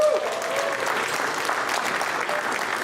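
Dinner audience applauding in a banquet hall, steady sustained clapping from many hands throughout, with a faint voice at the very start.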